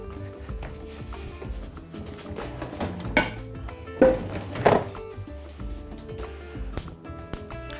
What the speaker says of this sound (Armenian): Տապակը հայտնվում է գազը ջախին։